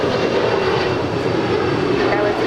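A Boeing 737-800 airliner arriving at LAX gives a steady, broad roar of jet engine noise that stays loud and even throughout, with no talk heard.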